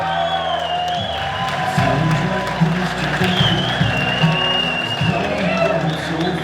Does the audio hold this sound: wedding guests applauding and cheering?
yes